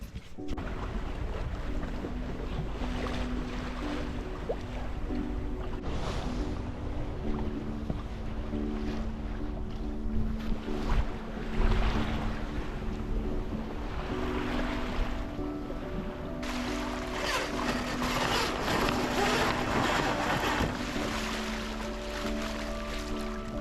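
A sailboat ghosts slowly under sail at about 2.4 knots in a Norwegian fjord, with a steady wash of water along the hull, wind noise buffeting the microphone and no talk.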